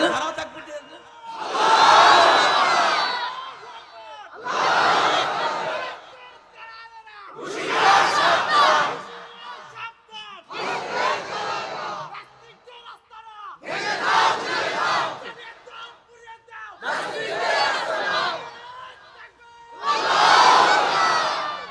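Large crowd at a Bengali religious sermon shouting takbir in unison, seven loud collective chants separated by short silences, each a powerful swell of massed voices.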